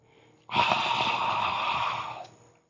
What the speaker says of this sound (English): exhale through mouth, making ha sound as if you are fogging the mirror